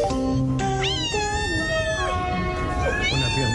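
A cat stuck under a train at the Gare de Lyon in Paris meows loudly and insistently, long wavering cries following one another without pause and rising into caterwauling, with talk faintly underneath.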